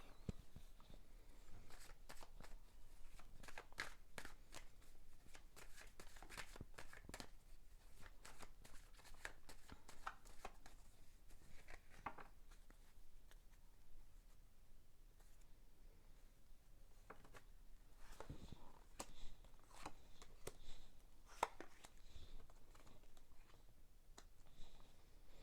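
Tarot cards are shuffled at length during a reading, a soft, fairly faint papery riffle with frequent light taps and flicks, no talking.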